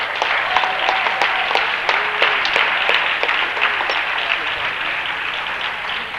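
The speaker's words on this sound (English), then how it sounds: "we give these both teams another round of applause for a great game" Crowd applause in a gym after a basketball game between Cavaliers and CKS, steady clapping with crowd noise and shoe squeaks, while an announcer talks over it.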